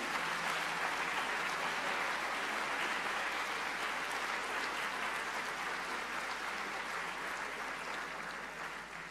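A diocesan assembly of catechists applauds in a hall, a full, sustained round of clapping from a large crowd that stays dense and even before tapering slightly at the end.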